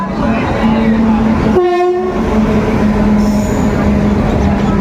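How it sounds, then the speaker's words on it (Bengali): The Howrah–Digha Tamralipta Express roars past close by, loud and rumbling, with a brief blaring horn blast partway through. "দামদলি এক্সপ্রেস আমাদেরকে ওভারটেক করে বেরিয়ে যাচ্ছে"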